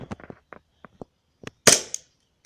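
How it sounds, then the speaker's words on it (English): Gas blowback M9 airsoft pistol, a gold-finished We-Tech model, firing BBs downrange: one sharp, loud crack with a brief ringing tail, preceded by scattered soft clicks and handling taps. "I have 10 BBs loaded up, and let's shoot a few downrange"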